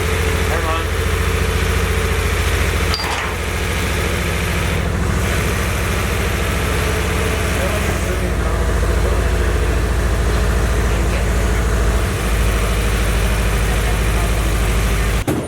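A Nissan S14 fitted with a bigger turbo, upgraded fuel pump and 550 injectors idles steadily and loudly up close, a continuous low rumble with a slight irregular lope and no talk over it.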